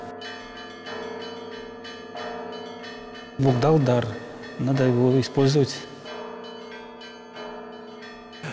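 Belarusian church bells ring in a repeating pattern of sustained, overlapping tones, with someone speaking over them midway before the bells continue alone.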